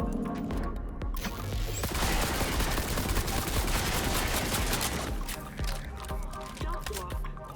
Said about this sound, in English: Let's look at an example here where I fire through a barricade.